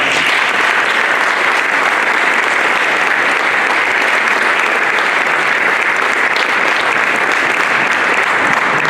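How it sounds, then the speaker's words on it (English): Steady, dense applause from a banquet audience honoring cheerleaders at a senior sports dinner, loud and continuous throughout with no break. "let's give them all a round of applause"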